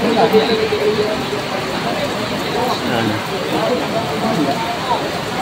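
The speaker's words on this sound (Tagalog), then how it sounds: "Nagbibilang na patak ng ulan" Steady rain falls in a continuous hiss over a livestock auction market, with voices and market chatter mixed faintly underneath throughout.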